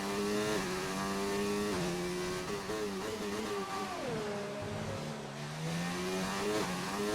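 A race car in a racing video game revs hard and climbs through the gears, the engine whine rising steadily with quick dips at each upshift, loud, close and continuous with no talking.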